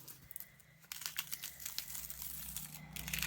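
A vinyl-finish sticker sheet peeled away from a planner, giving a close crackling, crinkling rasp that starts light and grows into a steady papery tearing sound over a few seconds.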